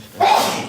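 A single sharp sneeze bursts out close and loud, an abrupt breathy blast that trails off quickly into quiet.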